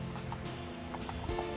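Armored Sleipnir horse in the video game Fallout London, with soft hoof clip-clops and faint shuffling over a steady ambient game backdrop, no talking.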